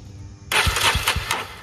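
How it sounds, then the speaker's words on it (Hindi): A Yezdi Roadster motorcycle with a clattering noise on starting fires up on its electric self-starter: quiet at first, then an abrupt loud close burst of engine noise with several sharp firing thumps. "भाई थोड़ा साउंड स्टार्ट करो, सेल्फ लगाओ"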